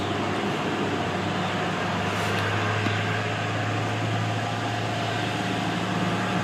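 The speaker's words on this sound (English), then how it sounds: "Let that truck go by." A truck passes close by as a loud, steady broadband roar with a low engine drone, filling the whole stretch without talk.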